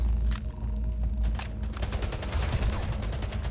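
Rapid SMG bursts in the video game Splitgate, loud and close, with overlapping shots and heavy low booms from the surrounding firefight.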